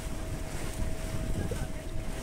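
Speedboat ride on Maithon lake, with a steady motor hum and wind buffeting the microphone under faint voices.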